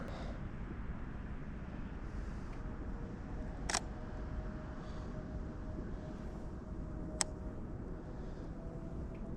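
Two crisp clicks from a camera shutter, taken a few seconds apart while shooting with a 50 mm lens outdoors in fog, stand out against a low, steady background rumble.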